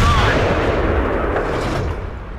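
A tank cannon shot in the video game World of Tanks, a loud, heavy boom already ringing out at the start that decays into a broad rumbling tail.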